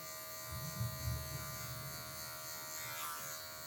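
Electric hair clipper humming continuously as its tip works over hair for a mid fade, a close, steady buzz with slight bumps in loudness and no speech.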